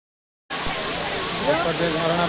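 A waterfall at a picnic spot in Bangalore, a loud steady rush of falling water that starts abruptly and fills the whole clip.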